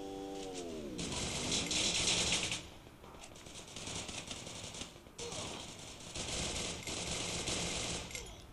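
Online shooter game gunfire rattles out in several bursts of rapid automatic fire separated by short pauses, fairly loud and with no talk.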